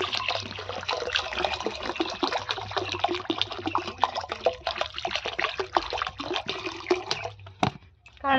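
Water pours steadily and close into a container to soak sago, a continuous gushing trickle that runs for several seconds before stopping abruptly.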